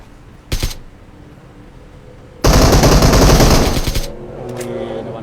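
Bursts of automatic gunfire in a battle royale video game, a short loud burst followed by a longer sustained rattle of rapid shots up close, then fainter scattered shots and game ambience, with no talk.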